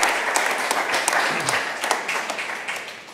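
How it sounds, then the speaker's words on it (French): At a live French business talk show, the studio audience claps in a moderate, uneven burst with distinct individual claps standing out, tapering off toward the end. "Applaudissements quand même"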